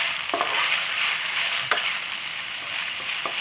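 Bite-sized chicken pieces fry together with crisp fried garlic in a pan. There is a steady sizzle throughout, broken by a few brief stirring scrapes, with no talk.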